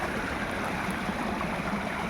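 Water running down out of a rice paddy field, a steady close rushing and gurgling flow with no break and no voices.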